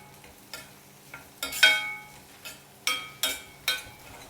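Onions being sautéed and stirred in a pan for paneer gravy over a medium flame, with a soft sizzle under repeated scraping stirs and light utensil clinks, close and fairly quiet.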